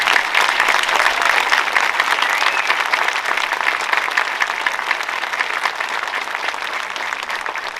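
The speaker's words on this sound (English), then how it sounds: "How about a round of applause for active duty?" An audience at a World War II legacy memorial dedication applauds active duty service members, a dense, even wash of many hands clapping that holds steady throughout without talk.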